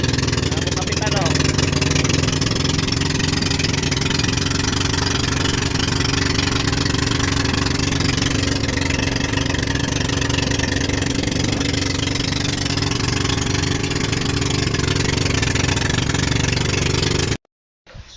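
A motorboat engine runs steadily on an island-hopping boat trip around Limasawa Island, a loud continuous drone close by for about seventeen seconds before cutting off abruptly near the end.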